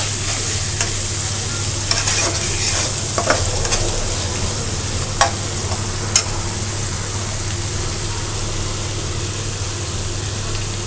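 Spices with salt fry in oil in a pan while being stirred, a continuous close sizzle with scraping and clinking strokes, over a steady low hum and no voices.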